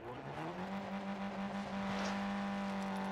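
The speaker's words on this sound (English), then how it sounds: "That car is so loud." A loud car engine in the shooter game Call of Duty Warzone, droning steadily and rising in pitch as it revs, close by with no talking.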